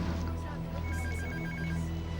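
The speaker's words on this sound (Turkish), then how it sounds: "Ah, telefon." A telephone rings indoors in a home, a repeated electronic trill in quick pulses over a low steady background hum, moderately loud and unaccompanied by speech.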